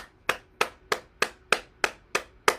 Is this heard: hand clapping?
yes